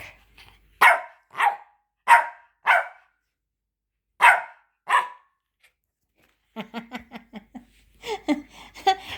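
Bored pet dog barking indoors in a house, a series of loud, close, evenly spaced barks, then quicker softer yaps and whines near the end.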